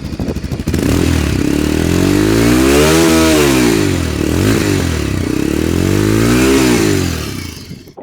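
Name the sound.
200cc sports motorcycle exhaust note revving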